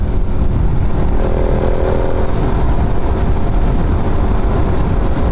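Suzuki Raider 150 Fi motorcycle fitted with an open airbox, heard while riding: a steady, loud, continuous engine drone with wind rush throughout, no speech.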